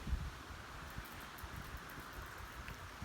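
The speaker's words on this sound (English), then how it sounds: "it's a ridiculously windy day today, so forgive me if you get a bit of wind" Wind buffets a microphone outdoors on a very windy day, a faint, steady rumble with low thumps and soft rustling, no speech.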